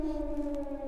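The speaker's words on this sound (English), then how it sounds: "An air raid siren cuts our interview short as Russia launches another attack against the Ukrainian capital" Civil defense air raid siren wailing over Kyiv during a Russian attack, a steady loud two-tone drone held for under a second with no voices.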